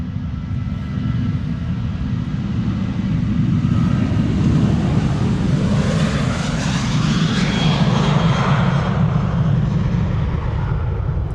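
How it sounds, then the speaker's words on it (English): A KLM Boeing 737-900 departs Amsterdam Schiphol Airport, its jet engines making a loud, steady roar that swells as the aircraft passes close by, with no voices. "This is KLM flight 939 going to Glasgow, 737-900."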